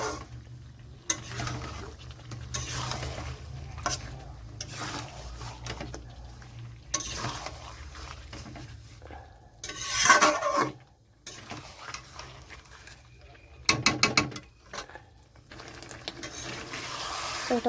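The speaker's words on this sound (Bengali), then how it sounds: "একটু মাছটা হালকা কষাতে হবে।" A spatula scrapes and stirs pieces of fried stingray fish in a pan, with intermittent metallic scraping and clattering bursts over a soft background hiss and long quiet gaps.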